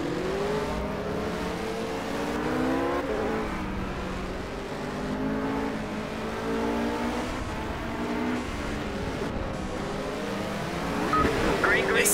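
Racing cars roar off the start at Watkins Glen in Project CARS, engines revving and shifting in a dense pack with rising and falling pitches, loud and continuous while someone commentates over them.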